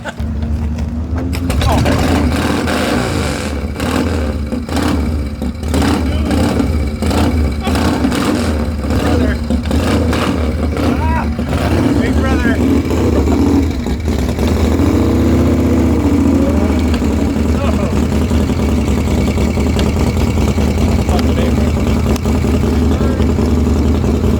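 A custom chopper motorcycle engine runs at an outdoor bike show, a loud, sustained mechanical roar with shifting intensity. Voices talk over it throughout.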